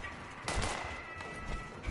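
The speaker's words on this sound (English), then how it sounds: "I hear gunfire." Distant crackling gunshots in the video game Fallout 76 pop in quick bursts over a hissing background, fairly faint and with no one speaking.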